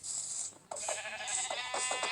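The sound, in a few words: sheep bleating in Minecraft video game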